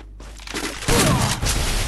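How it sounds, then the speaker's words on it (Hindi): Rapid gunfire bursts from the video game Garena Free Fire, a loud dense fusillade of overlapping shots that swells after a quieter start and stays sustained and close. "अरे भाई गोली चल दे"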